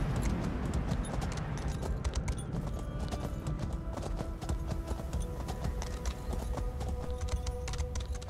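Horse hooves clip-clop rapidly as a mount travels across terrain in The Elder Scrolls Online, a loud, steady galloping rhythm of sharp hoof strikes close up, continuing unbroken.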